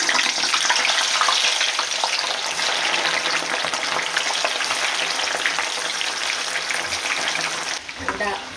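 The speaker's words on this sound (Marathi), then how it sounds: "मीडियम किंवा स्लो गॅसवरती आपल्याला ही छान ब्राऊन कलर होईपर्यंत तिला तळून घ्यायचं" Soaked chana and moong dal deep-frying in hot oil over a medium-low gas flame, a steady dense sizzle and crackle that runs loud and unbroken, easing slightly at the very end.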